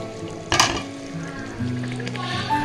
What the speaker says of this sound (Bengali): ডালটা কিছুক্ষণ কষানো হোক